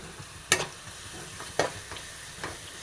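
Crushed ginger, garlic and green chilli sautéing with onion in a pan, a steady low sizzle broken by a few sharp scraping stirs, close and alone with no voices.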